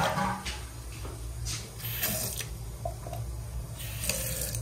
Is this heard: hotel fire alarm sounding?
no